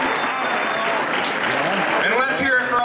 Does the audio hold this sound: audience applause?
yes